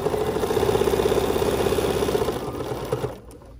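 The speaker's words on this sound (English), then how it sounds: "lower my presser foot and stitch" Sewing machine stitching fabric with the presser foot lowered, a fast close mechanical whirr running steadily for about three seconds before slowing and stopping.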